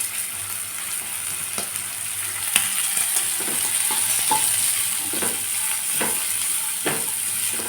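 Carrot, green peas and beans sizzle steadily in a hot pan, with occasional scraping stirs and light clinks over the continuous frying hiss.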